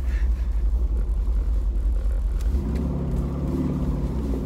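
Brabus G63 engine rumbling with a deep steady low-end drone, rising into a throatier rev with layered harmonics in the second half, loud and close with no talk.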